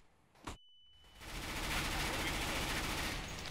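Gunfire in the CS:GO map Cache: a brief sharp shot early on, then a sustained loud burst of rapid automatic fire crackling through the rest.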